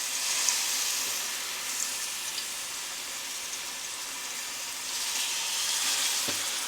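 Seasoned turkey necks and giblets frying in a medium-hot pan: a steady, close hiss and crackle of sizzling meat with no voices, swelling slightly louder near the end.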